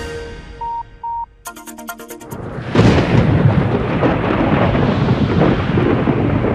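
Summer thunderstorm over Calgary: after a short ringtone-like beep sequence, a heavy thunder crash breaks in and rumbles on loudly with wind and rain noise, no talk.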